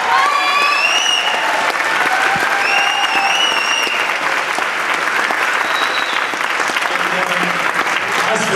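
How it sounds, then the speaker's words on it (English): An audience at a masters over-50 bodybuilding awards gives steady, full applause and some cheering for the competitors, with a few whistles and faint voices in the hall. "A big round of applause."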